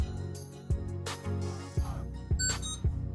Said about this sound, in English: That beep means that you're connected.